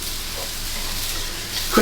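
Singapore fried rice sizzling in a red-hot wok, a steady broadband hiss running evenly throughout, with a brief louder scrape or toss at the very end.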